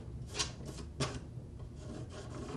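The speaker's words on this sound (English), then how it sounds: "each time I scrape it, I get more hot glue." Scraping hot glue off a wooden piece by hand: soft, dry rasping strokes, two sharper scrapes standing out among fainter rubbing, quiet and close with no talk.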